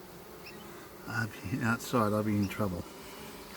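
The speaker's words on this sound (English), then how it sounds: "Now I've got a lot of bees on the outside." Honey bees drone around the outside of a Flow Hive during a hive inspection, a steady close buzz with someone talking over it.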